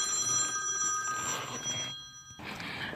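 A telephone rings with repeated electronic trills, moderately close, broken by a short gap before ringing again, with no talk over it.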